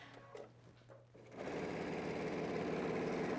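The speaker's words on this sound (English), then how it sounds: "we're gonna stitch just inside the seam allowance with just a normal stitch" A home sewing machine stitches fabric just inside the seam allowance of a men's dress shirt at normal stitch length, starting after a few quiet handling clicks and then running in a steady, fast mechanical whir close by.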